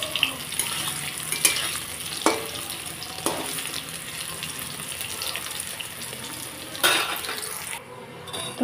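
Paneer fries in oil and ghee in a pan, a steady sizzle that runs throughout with scattered scrapes and clinks of a utensil stirring against the pan. A sharper burst of sizzle comes near the end.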